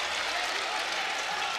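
Utah State Aggies fans cheer and clap inside a basketball arena during an NCAA men's tournament game against Villanova, a dense, sustained roar of crowd noise with applause and a commentator's voice beneath it.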